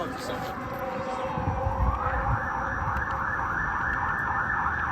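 Emergency vehicle siren passing along a city street at night, its wailing tone rising and sweeping steadily over constant traffic rumble while a pedestrian strolls through the neighbourhood.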